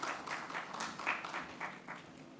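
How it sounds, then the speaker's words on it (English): An audience at an education and technology summit panel gives a faint, distant round of applause, soft scattered clapping that fades slightly toward the end. "A huge round of applause for Mr."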